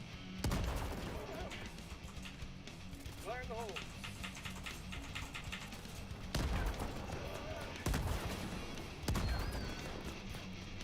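Grenades and other explosives going off in Helldivers 2, several loud booming blasts at irregular intervals with rumbling tails, with someone talking over the action.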